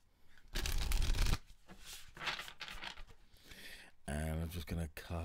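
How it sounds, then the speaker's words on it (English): Tarot cards riffle and flutter in a few bursts, with a voice speaking in between and toward the end. "One more shuffle."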